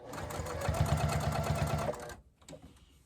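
A sewing machine top stitches a fabric bowl cozy with a fast, even mechanical rattle for about two seconds, then stops, leaving a few soft handling noises.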